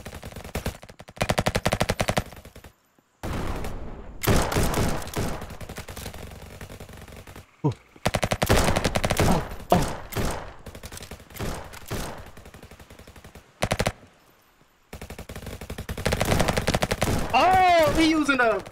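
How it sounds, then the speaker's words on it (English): Repeated bursts of marksman rifle fire in a Roblox first-person shooter, sharp loud cracks in clusters separated by brief silences, with a voice speaking at times. "Marksman rifle, bro."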